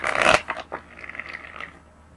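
A deck of tarot cards gets a quick, close riffle-shuffle, a burst of dense papery flutter followed by a few softer card taps and slides, with no talking.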